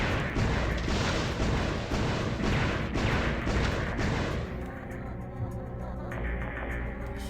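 Heavy, rapid booming double-cannon fire in the video game Einhander, dense and loud for several seconds before easing into a steadier rumble with lighter blasts.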